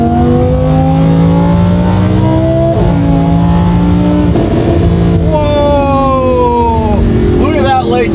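A Lamborghini engine in Corsa mode revs hard while driving, loud and close, its pitch climbing and dropping through several gear changes with a rising wail near the end.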